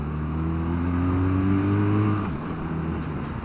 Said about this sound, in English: Here, I'll just do a bit of an overtake.